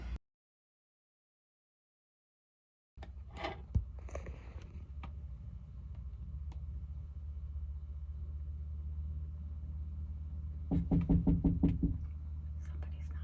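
Someone knocking on a van door at night, hotel overnight parking, a few scattered knocks and then a quick run of repeated raps, muffled and fairly close over a low idle rumble, with faint whispering.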